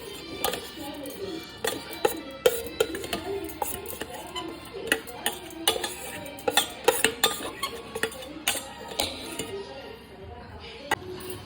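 A spoon stirring a paste of green chilies, peanuts, jaggery and coconut powder in a dish, giving irregular clinks and scrapes against the bowl, fairly close, with quiet stretches between strokes.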